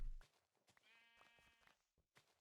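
A sheep in a modded block-building game bleats once in a wavering, drawn-out call, faint and quiet, framed by a few soft clicks and taps.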